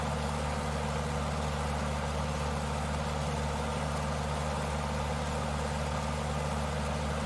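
Tiger Moth biplane engine in Microsoft Flight Simulator, a steady, continuous propeller drone held at power throughout without change, loud and alone with no talking.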